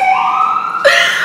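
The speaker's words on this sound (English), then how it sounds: "Sorry for the sirens." A loud emergency siren wails close by, its pitch sliding and then jumping to a sharper, higher tone.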